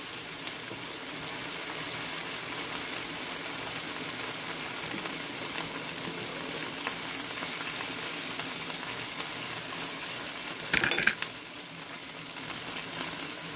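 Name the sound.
scrambling food frying in a pan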